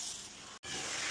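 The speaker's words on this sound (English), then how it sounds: "Now you spray down again." Two quick bursts of spray hiss from a spray bottle misting a Johnson's and water mix onto a Peugeot 307 back window, separated by a brief gap and close up.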